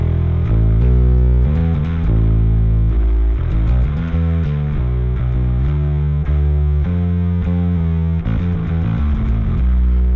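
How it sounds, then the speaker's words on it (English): A bass guitar through a Darkglass distortion pedal plays a steady melodic line with a slight gritty distortion blended into its clean tone, loud and close. "You can get like just the teeniest hair of distortion blended in with your clean signal."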